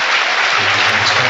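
A football crowd at Scunthorpe United against Woking applauds a player being substituted, a short burst of dense, even clapping spread across the stands, with a voice talking faintly underneath.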